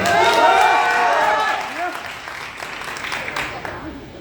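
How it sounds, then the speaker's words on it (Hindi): An audience applauds at a Bhojpuri song release event, a crowd's clapping swelling and then tapering off, heard beneath someone speaking over a microphone. "आप सभी को मेरा सादर प्रणाम एवं ताली बजा के आशीर्वाद दे दें।"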